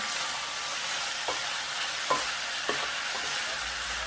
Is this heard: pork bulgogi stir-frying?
yes